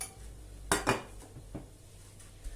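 An orange jelly mould is flipped over onto a glass plate, producing two sharp clattering knocks close by, followed by a few lighter taps and clinks in a quiet kitchen.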